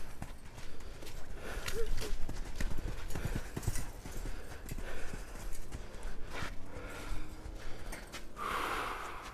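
Steady clip-clop of a ridden horse's hooves walking on firm ground, with snorts and a brief whinny near the end, heard fairly close.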